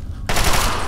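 A sudden loud burst of carbine assault rifle fire in Fallout 3 kicks in after a brief quiet moment and holds at full volume to the end.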